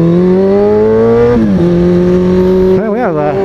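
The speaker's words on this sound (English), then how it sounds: "we have quite a couple renditions of some tunnel exhaust up in this bitch" Motorcycle exhaust revving inside a tunnel, a loud close engine drone rising in pitch, dipping briefly, then climbing again with a quick wobbling rev near the end, echoing off the walls.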